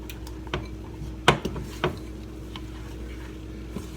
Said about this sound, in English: Crack the egg into the coffee, stir it up.